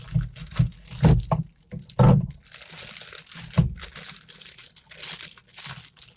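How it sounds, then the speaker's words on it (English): Crinkling plastic wrapping on a Sunature diamond painting package, handled close up in bursts of crackling and rustling over several seconds, with no talking. "Sorry for the crinkle, but I like the way these are wrapped"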